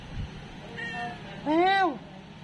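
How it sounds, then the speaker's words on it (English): Two drawn-out meows, the second louder and longer, rising then falling in pitch, close by, with a faint low thump just before. "Meow, meow, meow."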